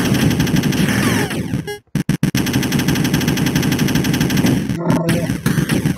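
Video game gunfire in a loud, chaotic firefight: dense rapid bursts of automatic shots with an engine rumble underneath, broken by two brief dropouts, with no talk.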